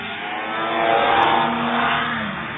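A racing hovercraft rounds a hairpin turn during a national hovercraft race at Tamworth, UK, its engine roar loud and continuous, swelling as it nears and easing slightly as it moves away.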